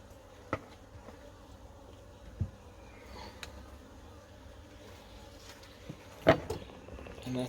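Honeybee nurse bees buzzing around a hive box at an apiary in South Africa, a faint, steady low hum with occasional soft knocks and thumps of handling equipment.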